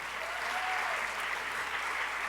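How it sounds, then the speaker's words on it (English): Dense, steady applause from an audience at a university speaking event, a brief uniform wash of clapping with no pauses. "Thank you, Bank of Marin. Let's applaud."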